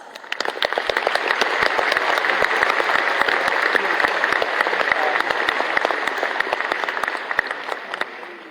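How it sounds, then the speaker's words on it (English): Audience at a high school graduation commencement ceremony claps steadily for several seconds, crisp and fairly close, swelling and then tapering slightly, with no voices over it. "Let's give them a round of applause."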